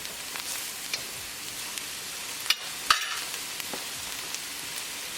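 Onions fry in a pan while being stirred, a soft steady sizzle broken by a few sharp scrapes and clicks of the spatula, close and fairly quiet with no voices.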